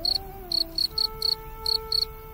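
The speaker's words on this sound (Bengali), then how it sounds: "গাছের ফাঁকে ফাঁকে ঝিঝি পোকার ডাক" Crickets chirping among trees beside village rice fields at dusk: rapid bursts of bright, pulsed chirps repeating in a steady rhythm, close and fairly loud over a faint sustained tonal background.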